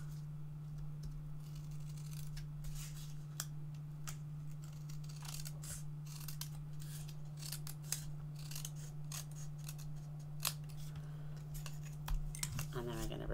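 Scissors cut card paper for a theatre fold card: a close run of crisp, irregular snips and small paper rustles over a steady low hum, growing busier and louder near the end.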